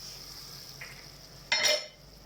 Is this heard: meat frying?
yes